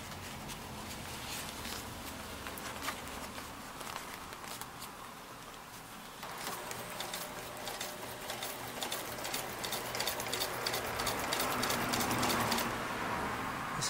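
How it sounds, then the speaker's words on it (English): A sewing machine runs steadily, stitching new vinyl into a torn motorcycle or scooter seat, with a continuous close mechanical whir that grows slightly louder partway through and has no talk over it. "then sew it in using the sewing machine."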